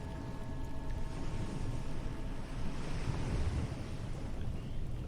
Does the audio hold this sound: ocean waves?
yes